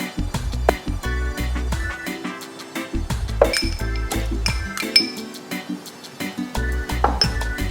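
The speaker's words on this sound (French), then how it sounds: "Je peux venir ajouter mon eau, mon sucre et mon beurre." Metal and glass clinks as water, sugar and butter go into a saucepan with milk, with repeated sharp clatters of utensils and containers against the pan over a low kitchen hum.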